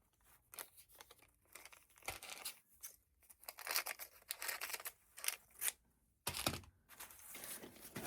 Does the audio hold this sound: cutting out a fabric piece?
yes